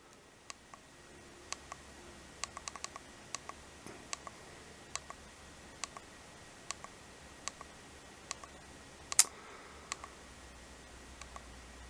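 Small plastic buttons clicked on a Polaroid IS048 digital camera while changing video settings, a string of faint, sharp, close ticks at irregular intervals over a quiet room hiss, one louder click near the end.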